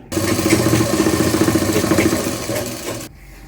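A sewing machine stitches kurta lining in one steady, close, loud run of rapid mechanical chatter, slowing slightly and then stopping abruptly near the end.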